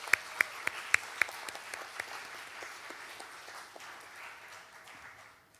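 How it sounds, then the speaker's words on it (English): Audience applause for musicians at a Carnatic devotional music concert, a dense wash of clapping with a few sharp individual claps near the start, gradually thinning and fading out over several seconds. "Let's give them a huge round of applause"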